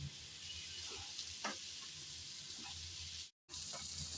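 Bitter gourd sizzles steadily in a hot pan, a constant close hiss with a few faint scrapes and a brief cutout near the end.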